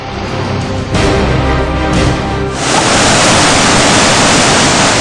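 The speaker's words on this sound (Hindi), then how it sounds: "उत्तरकाशी में भागीरथी नदी तांडव कर रही है।" The flooded Bhagirathi river rages through Uttarkashi with a loud, continuous roar of churning water that grows denser and more forceful partway through. No voices can be heard.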